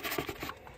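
A red Logitech mouse sliding across a desk surface, giving a faint, close scratchy rubbing sound over less than a second, no speech.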